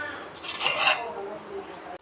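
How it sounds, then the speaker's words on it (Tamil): Rice grains being stirred through a pot of chicken dum biryani, a short scraping and clinking of a metal spoon against the vessel, close and fairly quiet, with no talk. "இதை அப்படியே ஒரு தாட்டி நல்லா கலந்து விட்டுடலாங்க"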